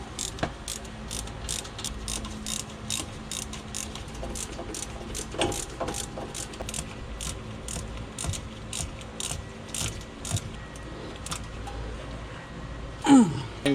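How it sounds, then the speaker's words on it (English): Socket ratchet running down bolts on the wheel hub of a 2010 Ford Taurus SHO during a wheel bearing job, heard as a rapid, regular clicking of the pawl close up, with a brief clunk near the end and no talking. "Now I will run these down with a socket."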